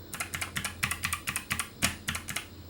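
Arrow keys on a computer keyboard are tapped about a dozen times in a quick, fairly even rhythm of close, crisp clicks, with no talking.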